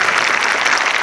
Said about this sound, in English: Yeah, you go ahead and clap.